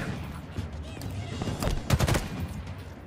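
Gunfire in Halo Infinite aimed at a Jackal sniper, a cluster of sharp shots bunched in the middle and loudest near the end of the burst, over ambient game noise.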